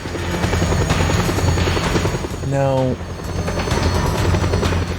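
A helicopter in the video game Just Cause 2 gives a loud, continuous rotor drone with faint crackles of gunfire and a short rising mechanical tone midway; a voice speaks briefly over it.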